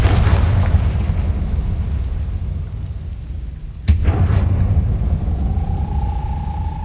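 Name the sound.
Confringo explosive spell from the video game Hogwarts Legacy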